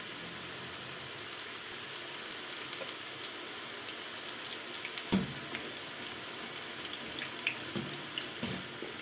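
Chips fry in oil over a low flame with a steady, soft hiss of bubbling fat and scattered small crackles and pops, close up and continuous, with no talking.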